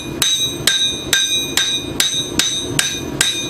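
A hammer strikes a hot blade on an anvil while forging a bevel outdoors, eight sharp ringing metallic blows at a steady, even rhythm, close and loud with no voices.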